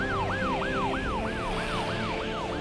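Police siren wailing in a repeated rising-and-falling sweep, loud and continuous over engine and road rumble, with no voices.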